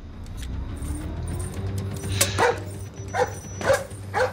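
A guard dog in the stealth video game Splinter Cell Blacklist barks several times in short bursts over a low ambient game rumble, the barks growing louder and more frequent toward the end.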